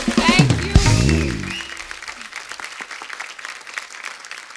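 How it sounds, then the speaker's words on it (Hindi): A studio audience at a television comedy talk show breaks into sustained applause to welcome a guest, starting right after a brief musical or vocal burst and holding steady to the end. "तो आप सबकी जोरदार तालियों के साथ प्लीज वेलकम फिल्म गहराइयां से the very gorgeous and stunning Deepika Padukone"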